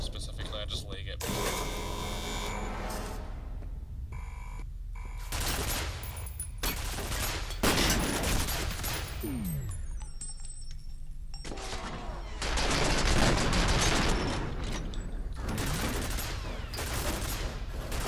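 Automated turret gunfire in F.E.A.R. rattles in repeated dense bursts, loud and close, with explosions and impacts mixed in, while someone talks over much of the combat.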